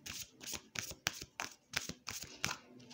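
Oracle cards with silver edges and a matte finish are shuffled by hand in about seven quick riffling bursts at a steady rhythm, close and moderately loud, with no talking.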